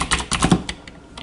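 Quick, light keystrokes on a computer keyboard, a short uneven burst of close clicks and taps with no talking.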